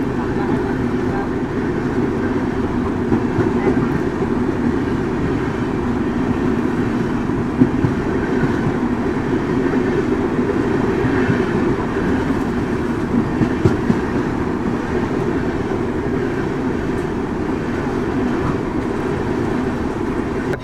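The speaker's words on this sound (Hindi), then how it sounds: "यहाँ मुरादाबाद साइड से भी कोई गाड़ी आ रही है जिससे अपना पैरेलल हो रहा है।" A passenger express train rumbles steadily along the tracks in India, its wheels clattering close by in a continuous, even roar with occasional sharper clacks, as another train runs on a parallel track.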